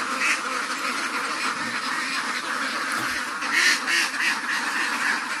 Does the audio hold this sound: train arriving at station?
no